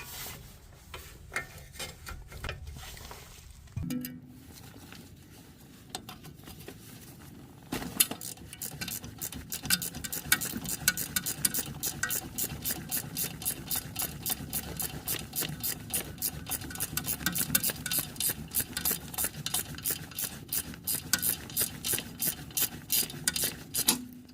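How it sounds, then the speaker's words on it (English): Rapid, steady ratchet wrench clicking, close and fairly loud, loosening a control arm nut on a 2013 Nissan Sentra, runs for most of the clip after a few seconds of quieter metallic fiddling. "use your ratchet to back it out"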